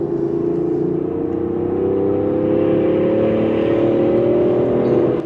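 A 2023 Range Rover Sport in sport mode revs its engine hard, a loud, continuous rising roar that climbs steadily in pitch with no talk over it.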